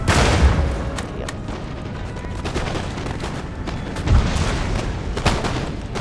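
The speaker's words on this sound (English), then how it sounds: "Firing cannons." Cannons firing in Empire: Total War with the Poland-Lithuania faction, a dense stream of booms and crackling shots rolling on continuously, with heavier thumps standing out near the start and again around the four-second mark.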